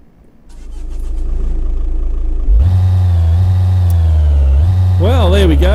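A Mercedes-Benz Sprinter van engine in American Truck Simulator cranks and fires up, settling into a loud steady idle, then a brief rev with a rising and falling whine near the end.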